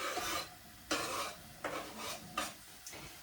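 Onions cooking in a pan for vegan spaghetti bolognese, stirred in four distinct scraping sweeps with a spoon against the pan, each a rasping swish under a soft background sizzle, close and fairly quiet.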